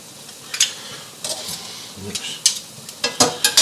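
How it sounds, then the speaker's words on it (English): Garlic goes into a pan of liquid, where it sizzles and bubbles, and a utensil stirs and scrapes against the pan in a string of short, close, fairly loud bursts. "right now is the time that I am going to add my garlic"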